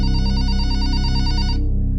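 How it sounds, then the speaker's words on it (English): An office telephone in a clinic rings with a steady, buzzing electronic tone for about a second and a half before cutting off, loud and near, with no talk over it. "the office phone rang."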